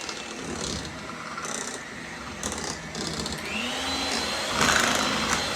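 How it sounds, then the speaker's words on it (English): An electric hand mixer whips cooked potatoes in a bowl, making a steady whirring motor hum with scraping and knocking of the beaters, one rising speed change toward the end, moderately loud and close. "I like to do it with the mixer because I want them nice and soft and blended, creamy."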